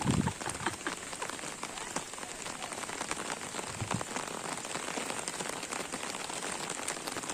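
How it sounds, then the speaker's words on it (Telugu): Heavy rain pours steadily in a lush green village during a week of nonstop downpour, a dense continuous hiss of drops hitting surfaces with no break, loud and close throughout. "వర్షాలు అయితే మాత్రం విపరీతంగా కురుస్తుంది ఎప్పుడు పడలేనంత వర్షం పడుతుంది"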